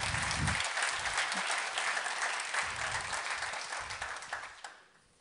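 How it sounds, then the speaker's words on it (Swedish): An audience at a golf federation meeting gives a round of applause for the world championship team, dense clapping with a few low voices beneath that thins out and fades away at the end. "En applåd."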